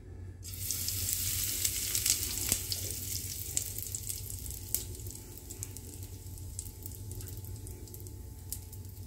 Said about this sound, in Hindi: अब हमारा तेल जो है वो गर्म हो गया। अब हम एवरेस्ट का हींग डालेंगे इसमें